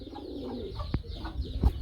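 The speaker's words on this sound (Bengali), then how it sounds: "দেখতে পাচ্ছেন বিউটি হুমা কবুতর" Beauty Homer pigeons at a pigeon sale make soft, brief cooing sounds close by. The calls are quiet and come over low background noise.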